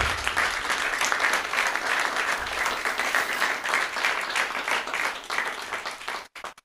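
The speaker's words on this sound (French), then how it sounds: "Moi ça mérite des applaudissements quand même" A café audience breaks into sustained applause, dense and steady for about six seconds before stopping abruptly.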